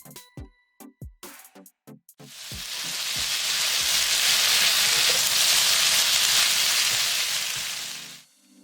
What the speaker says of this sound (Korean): 소고기 넣고 달달 볶아줍니다. 감자, 양파, 스팸 넣고 2분 정도 볶고